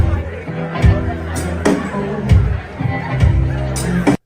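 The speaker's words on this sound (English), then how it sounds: "I don't think I've ever been at a show where there was this much chatter in the crowd." Crowd at a concert chattering between sets, a steady hum of many overlapping voices with occasional louder thumps, fairly close and continuous before cutting off abruptly.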